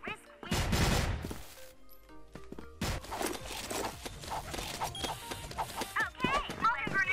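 Guns fire in the video game CrossFire while weapons are tested in a match, with sharp, loud shots and bursts scattered through the stretch alongside footsteps and in-game clatter.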